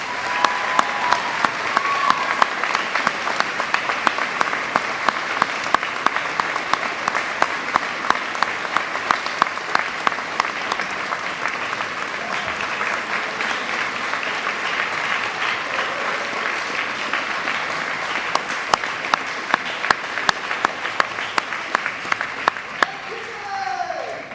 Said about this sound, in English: Please join me in one more round of applause for these paramedic graduates.